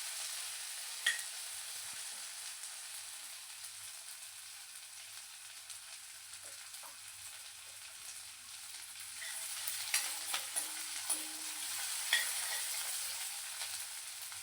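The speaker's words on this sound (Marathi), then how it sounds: "हिरवी मिरची लसण अद्रक बारीक केलेलं आता दोन मिनटं होऊ देते" Green chili, garlic and ginger fry steadily in a pan, a continuous soft sizzle with occasional light scraping stirs and small clinks throughout, a little livelier toward the end.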